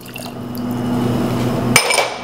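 Water pours into a 2-quart Calphalon pot of sugar over medium heat for caramel, a close, steady gurgling stream that stops abruptly near the end with a brief clink.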